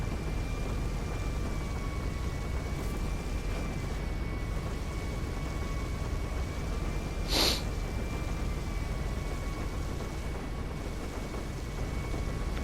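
Rain in a flight simulation game falls as a steady, even hiss, with faint constant engine tones humming underneath and one brief burst of noise partway through.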